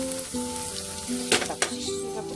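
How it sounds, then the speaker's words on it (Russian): Carrots sizzle and crackle in hot melted butter in a pan for Armenian kololak soup, a steady frying hiss with a couple of sharp spatula scrapes partway through. "Будем жарить. Я добавляю морковку."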